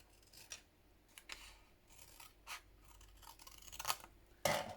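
Scissors snip paper while cutting pieces for a handmade letter-rack journal, a series of light, crisp cuts spaced irregularly across the span and growing louder toward a final sharp snip, close and quiet with no talking.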